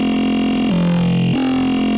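A Filterverse synth patch without post-processing effects plays a loud, sustained growling tone that drops in pitch, holds, then steps back up, thick and buzzing throughout with no voices.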